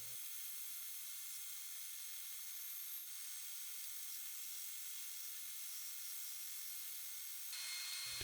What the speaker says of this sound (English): To cut the portions of the shapes which are relatively straight or gently curved,